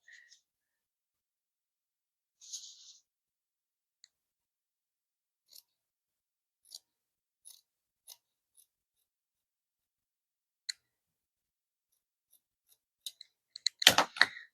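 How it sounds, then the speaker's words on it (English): Quiet, scattered snips and clicks of scissors cutting paper during foundation paper piecing for quilting, a few spaced cuts, ending in a louder rustling burst of handling paper. "And then I take my scissors and cut it."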